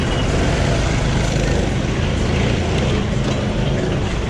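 A truck holding up a queue of traffic on the way to Antipolo rumbles up close, a dense steady roar of engine and road noise with no pauses.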